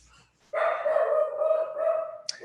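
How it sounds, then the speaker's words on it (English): A dog barks and howls indoors in a home, one long drawn-out sustained bark-howl lasting about two seconds and ending with a short sharp yip, fairly close and loud, with no talk over it. "So we'll just let him bark and have fun."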